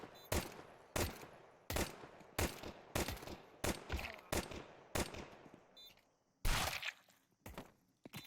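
Spray gunfire in the CS2 shooter, sharp near shots in a loose rhythm of about a dozen evenly spaced cracks, each ringing briefly, with a short pause before a heavier final cluster.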